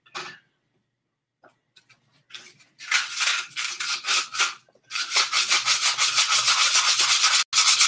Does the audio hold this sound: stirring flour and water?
no